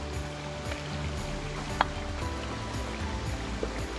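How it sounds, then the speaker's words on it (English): A creek flows beside an unmaintained portage trail in Algonquin, giving a steady, moderate gurgle of running water with a couple of brief knocks and no talk. "Nice creek beside us, which is cool."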